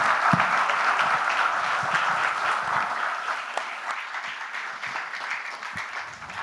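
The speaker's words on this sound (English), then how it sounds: "the applause should continue" An audience at a real estate industry fireside chat applauds with sustained, dense clapping that slowly thins and softens over several seconds.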